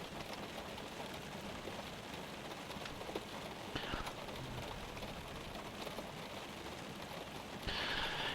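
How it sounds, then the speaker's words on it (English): Steady rain in the X-Plane 12 flight simulator patters on a surface as a continuous hiss, with occasional faint knocks and a brief louder rush near the end. "It's raining pretty good here currently."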